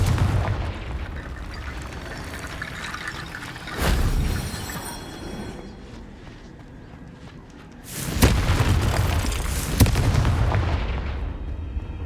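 Booming blasts from the Confringo explosion spell in the video game Hogwarts Legacy, played on PS5: a heavy burst near 4 seconds, then a louder double explosion around 8 to 10 seconds, each with a rumbling tail.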